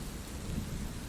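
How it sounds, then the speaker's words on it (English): Steady rain with a low rumble of thunder, a continuous storm wash that stays moderately loud and even throughout with no voices. "listening to the storm."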